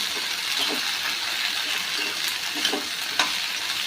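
Finely chopped okra stir-fries over a high flame, a steady close sizzle with occasional scraping strokes and no voices.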